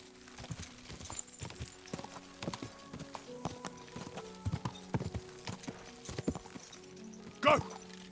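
Horse hooves clip-clopping in the medieval role-playing game Kingdom Come: Deliverance II, a steady trotting rhythm of crisp hoof strikes close by, with a short whinny near the end over quiet game ambience.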